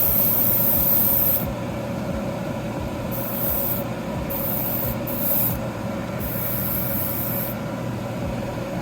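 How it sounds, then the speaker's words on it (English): Short bursts of aerosol spray paint hiss in several quick passes over a small Gundam model kit clip, separated by brief pauses, over a steady low background hum. "Spray the clip a little bit."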